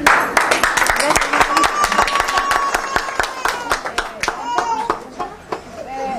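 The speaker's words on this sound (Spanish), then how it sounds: "Aplausos!" A small group at a training session in Bolivia claps in distinct, sharp, fairly close hand claps that form an uneven rhythm, with chatter and voices mixed underneath.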